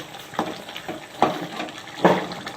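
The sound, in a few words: mushroom curry boiling in a pot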